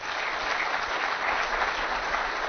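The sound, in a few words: audience applauding speeches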